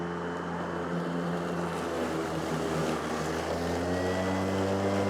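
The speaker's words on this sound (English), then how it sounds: "Now it's gonna rev up again when we hit that heavy stuff." A Ryobi 40V cordless cross-cut lawn mower runs through heavy grass, giving a loud, steady motor drone with a strong tonal hum that holds evenly throughout, with no voices.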